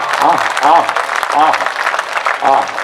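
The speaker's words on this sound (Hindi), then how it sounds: "मां की कविता के हिसाब से तालियां थोड़ी कमजोर हैं।" Steady clapping from a crowd, fairly close, mixed with cheering voices, after a Hindi poem about mothers is recited.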